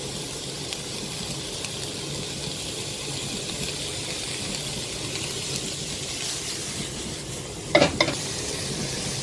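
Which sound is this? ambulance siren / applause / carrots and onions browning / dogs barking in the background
carrots and onions browning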